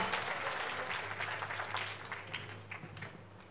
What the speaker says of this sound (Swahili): Wapi makofi yao tafadhali?